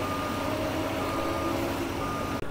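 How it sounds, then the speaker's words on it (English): A forklift reverses with a steady electronic beep over a dense, constant wash of engine and workshop noise, moderately close, with no talk. "Some good forklift driving though."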